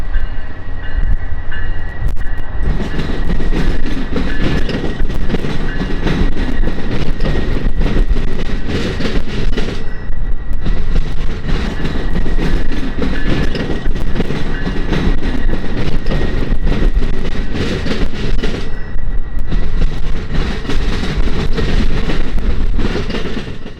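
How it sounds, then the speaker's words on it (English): Amtrak train 391, the Saluki, with an SC-44 locomotive and seven Superliner cars, rolls past the 16th Street Tower in Chicago as a steady, loud rumble with rhythmic clickety-clack from the wheels. "we see Amtrak train 391, the Saluki, sliding past the tower with a consist of an SC-44 and 7 superliners"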